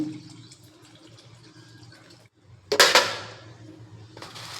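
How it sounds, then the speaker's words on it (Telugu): Water poured into a pot of capsicum sambar: a brief quiet lull, then a loud splashing gush that tapers off, with a further small splash of liquid near the end, close and clear over a soft kitchen hum. "కొంచెం వాటర్ వేసుకుందాము"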